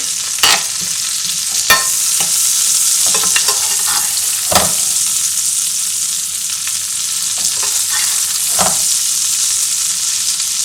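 Steak frying in a pan with oily sauce and thyme gives a loud, steady sizzle, punctuated by a few sharp scrapes and clacks of a utensil against the pan, with no voices.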